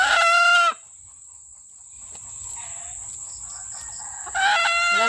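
Roosters on a farm crow loudly up close, one long crow at the start and another at the end, with softer clucking, a steady insect-like whine and rustling filling the gap between them.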